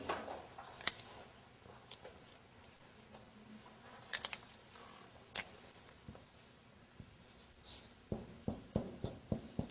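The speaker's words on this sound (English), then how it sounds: "Okay, I will write down." Pen or marker writing out Arabic lesson text, faint scratchy strokes with a series of sharper taps and clicks near the end, quiet and close with no talking.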